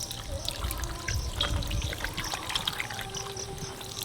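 Tap water runs and splashes steadily while a large 2 kg hilsa fish is washed by hand, making a continuous close trickle with small irregular splashes.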